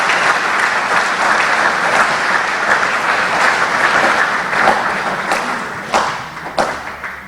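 An audience applauds at a solar installation training event in Dolisie, a loud, close burst of many hands clapping that thins out toward the end into a few separate claps.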